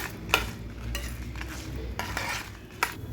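Urad dal roasts in a pan with dried red chillies as a metal spoon stirs it, giving scraping, clinking strokes over a faint steady sizzle, close and fairly loud with no talking.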